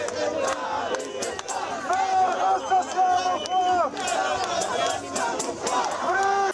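A pro-Palestine protest crowd surges through a city square, a loud mass of shouting and chanting voices that swells and recedes, with yells standing out over a constant roar.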